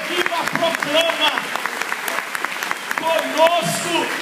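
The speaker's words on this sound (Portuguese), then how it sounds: "Então aplaude esse irmão que está do seu lado que tem uma fé viva." A church congregation at a mass in Lorena claps together, a dense, steady wash of applause running throughout with a preacher's voice and voices over it.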